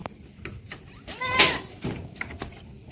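A goat held for treatment gives a short, loud, wavering bleat at close range, surrounded by light handling noises and faint bumps.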